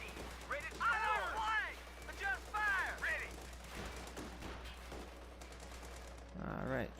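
Heavy machine gun fire in Company of Heroes 2 Ardennes Assault rattles in bursts of rapid shots amid other battle noise, mixed under frequent shouted soldier voices.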